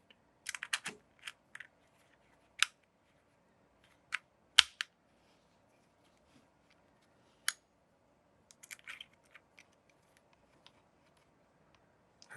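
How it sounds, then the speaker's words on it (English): Frame screws being driven back into an HK Army Shrapnel Etha 3 paintball gun give scattered small clicks and taps of metal and plastic, close and quiet, with long gaps of near silence and no talk. "Take our frame, put our frame back on, put our frame screws back in."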